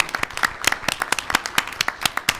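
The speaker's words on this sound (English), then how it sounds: "everyone give him a round of applause" Audience at a school board meeting applauds, a fairly sparse, uneven run of distinct close-up hand claps from a modest group, each clap clearly separated, continuing steadily throughout.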